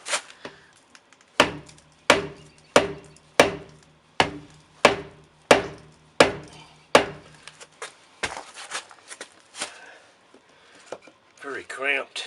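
A dead blow hammer taps a rubber Fernco coupling onto a cast iron sewage pipe being joined to PVC, giving about ten evenly spaced, close, solid knocks, then softer scattered handling noises in a cramped space.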